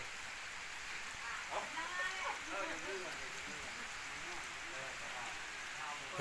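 Rain falls steadily on a surface in rural Laos in a continuous patter, while someone talks briefly partway through.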